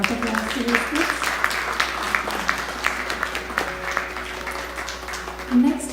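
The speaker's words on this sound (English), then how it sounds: "So please give another round of applause to these kids." Audience applause for children performing at a music academy fundraiser concert, a steady wash of clapping lasting several seconds with musical tones and a bit of voice sounding underneath.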